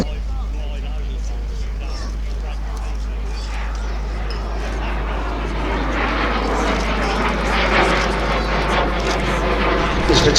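A Hunting Percival Jet Provost T5 jet trainer, built by the British Aircraft Corporation at Warton in 1970, flies at an air and car show, its broad engine roar swelling steadily louder toward the end as it passes close by.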